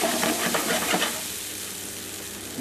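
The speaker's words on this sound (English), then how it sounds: "I'm going to warm up my salsa, which I pre-prepared earlier, into the pan" Pre-prepared salsa warms in a pan, giving a steady sizzling hiss with a few brief stirring scrapes near the start, close and fairly loud with no voices.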